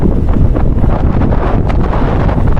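Strong, cold wind roars steadily across the microphone at a campsite in Tagaytay, a loud continuous buffeting rumble with no pauses.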